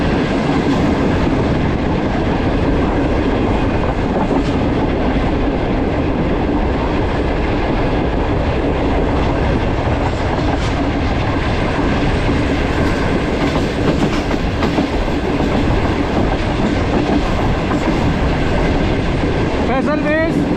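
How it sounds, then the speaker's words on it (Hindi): The 41 Up Karakoram Express passenger train runs through Karachi without stopping at Ring Road railway station, a loud, steady roar of wheels on rails with clickety-clack rhythm throughout and faint squeals near the end. "रिंग रोड रेलवे स्टेशन को स्किप थ्रू कर रही है 41 काराकोरम एक्सप्रेस।"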